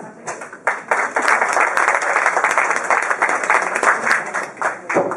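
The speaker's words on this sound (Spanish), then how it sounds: "vamos a recibir con un aplauso a Ángela Díaz" At a poetry recital in a cultural hall, an audience welcomes a poet with a burst of clapping. Individual claps are distinct and fairly close, forming a lively, steady round that lasts about five seconds.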